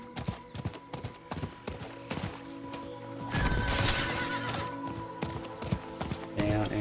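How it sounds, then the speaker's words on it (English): A horse in the Diablo 4 video game gallops with rapid hollow clip-clop hoofbeats, then lets out a loud whinny midway, before the running hooves continue up close. "Let's go. Come on, horse."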